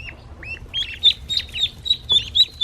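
Young ducklings a few weeks old peep in a brooder, a run of high, rapid, rising chirps clustered close together, fairly near and getting busier, with a low background hum.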